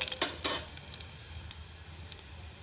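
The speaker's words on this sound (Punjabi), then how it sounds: "ਤੇਲ ਆਪਣਾ ਗਰਮ ਹੋ ਗਿਆ ਤੇ ਹੁਣ ਆਪਾਂ ਇਹਦੇ ਵਿੱਚ ਸਾਬਤ ਧਨੀਆ ਥੋੜਾ ਜਿਹਾ ਪਾਵਾਂਗੇ" Whole coriander seeds drop into hot oil and crackle, with a few sharp spoon-and-pan clinks at the start, then a light, scattered sizzle with small pops continues close by.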